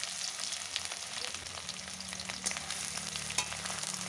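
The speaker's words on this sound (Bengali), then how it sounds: "পেঁয়াজ লাল করে ভেজে নেব।" Finely chopped onion frying in hot oil after bay leaves, a soft continuous sizzle with light stirring clicks near at hand, quiet, with a low background hum and no talking.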